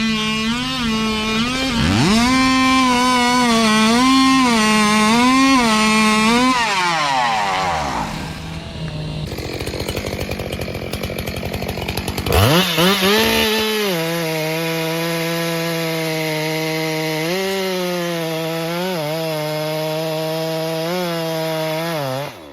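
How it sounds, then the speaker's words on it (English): A chainsaw cutting through a thick tree trunk in a dense forest, loud and close, the engine screaming steadily under load, dropping away briefly mid-cut, then revving back up and holding a high whine. "the chainsaw roars to life"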